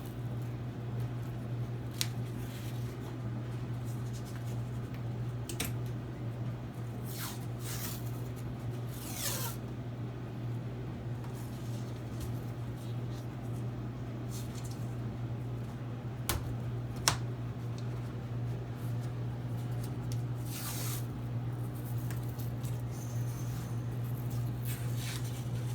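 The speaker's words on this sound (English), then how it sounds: "I am going to put some tape on here to hold it also" Tape pulled and pressed onto a freshly glued Formica countertop edge, with scattered rasping rips and rubbing sounds spread unevenly over a constant low hum.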